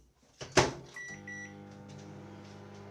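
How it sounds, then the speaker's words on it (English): A microwave oven reheating a plate of wrapped pizza: the door thuds shut, buttons beep, then a steady low electrical hum runs on nearby. "the microwave."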